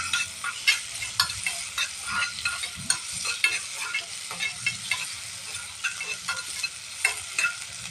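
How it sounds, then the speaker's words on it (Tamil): Finely chopped jackfruit fries in ghee, with a steady sizzle broken by repeated scraping and stirring strokes of a spoon in the pan, close up and with no voices. "பலாப்பழம் ஒரு பழத்தை நல்லா பொடிசாக நறுக்கியிருக்கேன். அதை இந்த நெய்யில் போடும்."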